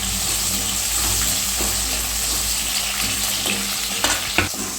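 Onion and garlic sautéing in a pan for a tamarind-style vatha kulambu, a steady close sizzle and hiss of frying with a few brief stirring scrapes near the end and no talking.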